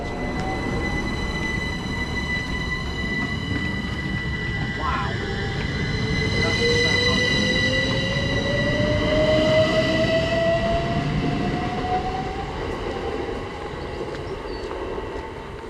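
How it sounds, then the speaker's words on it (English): Class 387 electric train 387153 pulls away from Midgham station toward Reading, its rising traction whine climbing steadily over rumbling wheels, with faint voices in the background. "just about departing now is 387153 to Reading"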